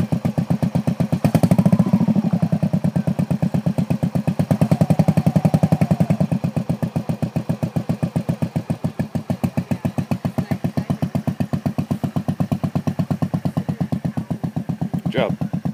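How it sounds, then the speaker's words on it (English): A motorcycle engine runs steadily throughout with a fast, even pulsing idle, loud and close, while a person talks over it. "the engine doesn't like to go slow when it's fully engaged."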